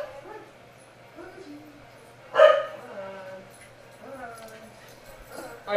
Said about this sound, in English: That's why the corgis were barking.